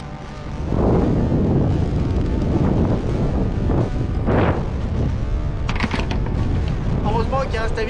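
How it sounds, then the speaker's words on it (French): Steady, loud wind buffeting the microphone, a low roaring rumble that runs the whole time with gusty swells and no clear pauses. "Il va y avoir le vent, mais bon."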